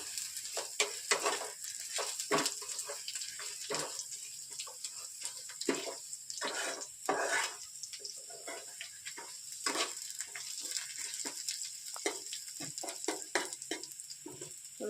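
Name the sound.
garlic frying in a pan for palak paneer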